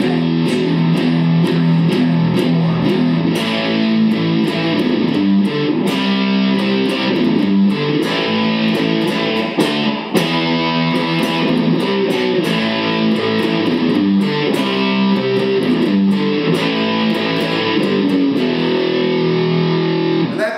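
Heavily distorted electric guitar chords from a song play continuously at a slow, steady pace, loud and dense, with no voices.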